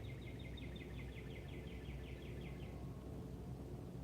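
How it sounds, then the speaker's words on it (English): Faint birdsong outdoors beside a quiet railway line near Bridgeport, a repeated trilling call for about three seconds over low ambient rumble, then fading out. "Just the birds."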